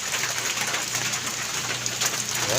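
Steady rain pours down at a newly moved-into house near a drain, a constant close hiss of falling water with faint bird calls in the background.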